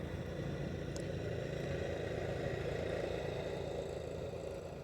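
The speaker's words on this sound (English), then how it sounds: "Can you hear the tractor?" A low, steady tractor engine rumble drones throughout as it slowly approaches, a heavy motor creeping along at a constant level with no talk.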